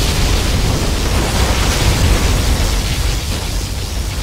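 Particle cannon blast from the C&C Generals Zero Hour strategy game, a dense, continuous roaring rush of noise that holds loud and steady throughout like a sustained energy beam.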